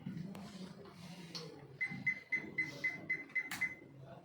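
A digital multimeter's buzzer beeps in a quick run of about eight short, even tones while set to the ampere range on a temperature transmitter test setup, with faint background noise and a brief voice before the beeps.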